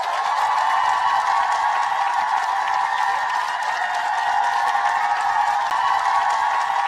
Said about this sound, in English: Let's just take a moment of applause.